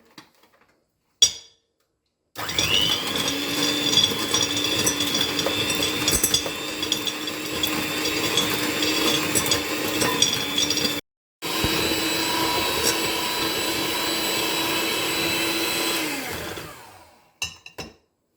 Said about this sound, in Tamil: பட்டர் எடுத்து வச்சுருக்கேன். இதை முதல் பீட் பண்ணிக்கலாம்.